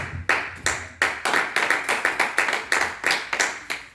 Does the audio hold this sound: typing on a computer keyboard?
no